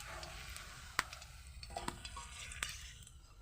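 Sabudana (sago) fuchka fry in a pan with a quiet, even bubbling sizzle, broken by a few sharp clicks and taps of utensils, heard faintly without speech.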